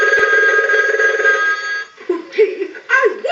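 An animated Mickey Mouse novelty telephone being repaired rings loudly as a test ring cycle is sent to it from an analyzer, a steady electronic trill that stops partway, followed by a cartoon character voice speaking from the phone.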